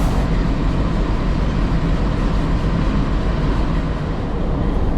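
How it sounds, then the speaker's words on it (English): Steady, loud rumble of a Pacific National NR class locomotive hauling the Overland train from Adelaide to Melbourne, a continuous low drone with faint rhythmic rail clatter and no pauses. "So here is today's locomotive that will take us to Melbourne, Pacific National's"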